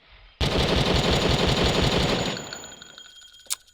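Automatic rifle fire in the Carnivores: Jurassic Park Revolution hunting game during an Edmontosaurus hunt, a loud sustained machine-gun burst of about two seconds with rapid even shots, tailing into echo, then one sharp click.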